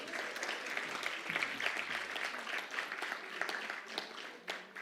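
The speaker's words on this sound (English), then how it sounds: "Women, come on, a round of applause." Audience applause at a women's empowerment award presentation during a membership launch event, a steady wash of many hands clapping that holds for several seconds, fairly distant and even, with a few louder claps near the end.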